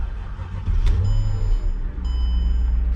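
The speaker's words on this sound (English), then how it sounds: "let's hop back in the front, get this thing started, and hear what it sounds like" A 2006 Mercedes-Benz E500 starts up from inside the cabin: a short crank catches into a steady, close, low idle rumble, with faint electronic chimes sounding over it.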